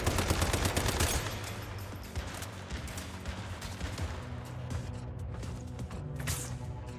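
Sustained, dense automatic gunfire in the survival shooter Once Human, loud and continuous with rapid overlapping shots and game sound effects filling the whole stretch.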